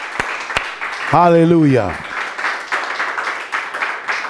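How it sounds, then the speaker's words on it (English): A church congregation claps hands in praise, a broad wash of applause that continues steadily after a sung shout from the crowd. "Give him a hand clap of praise."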